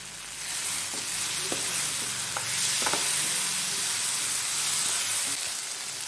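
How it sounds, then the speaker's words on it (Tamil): Ivy gourd stir fry sizzles loudly in a pan as it is stirred, with a steady frying hiss and a few soft scraping knocks of the spoon close by, no talking. "மூடியை திறந்து 2 கிளறி விடலாம்."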